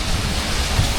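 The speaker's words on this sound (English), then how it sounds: "straight to Belfast where of course it's raining too." Steady rain falling in Belfast, a dense even hiss of drops with a low rumbling wash, close and constant for the brief moment.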